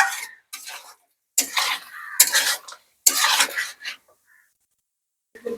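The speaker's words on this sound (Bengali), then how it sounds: "দই দিয়ে ভালোভাবে মাংসটাকে কষাবো।" Yogurt-coated chicken is stirred in a karahi for Peshawari chicken karahi, heard as several separate bursts of scraping and clanking from a spoon against the metal pan, with short silences between them.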